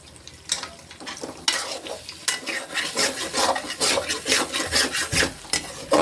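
A utensil scrapes egg around a pan in a rhythmic series of rasping strokes for egg pasta, growing busier and louder after a slower start, close and with no voices.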